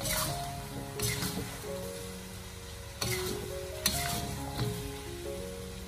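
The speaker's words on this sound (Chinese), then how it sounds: "先把蒜白给它放进锅中，给它翻炒均匀" Garlic whites stir-fried in a wok for a duck dish, with a soft steady sizzle broken by occasional scrapes and knocks of the spatula against the pan, fairly quiet and with no talking.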